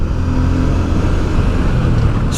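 V-twin motorcycle engine running at steady high revs with a heavy, throaty drone, loud and close during a European mountain-pass tour.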